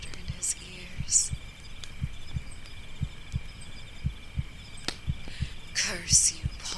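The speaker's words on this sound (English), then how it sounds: "the heartbeat grew louder and louder in his ears" Heartbeat sound effect in a horror story, a steady run of low, soft thumps in a repeating pulse under faint background hiss, with occasional brief high rustles.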